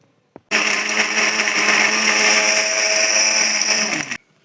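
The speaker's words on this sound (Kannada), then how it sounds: "ಇವಾಗ ಮಿಕ್ಸರ್ ಮಾಡ್ಕೊಂಡು ರುಬ್ಕೊಂಡು ಬರೋಣ ಬನ್ನಿ" A kitchen mixer grinder blending soaked tamarind into a paste for a katla fish curry, starting abruptly after a small knock and whirring loudly and steadily for about three and a half seconds before cutting off.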